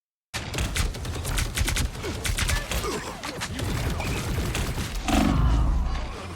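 Sustained rapid gunfire from a turret in a shooter video game, loud and dense bursts with heavier thumps near the end.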